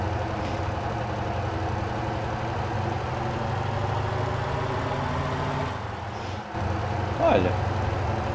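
In Motor Town: Behind the Wheel, a heavy truck carrying 15,000 kg of cargo drives along with a steady, low engine drone that stays constant, broken only by a brief dip and a small blip near the end.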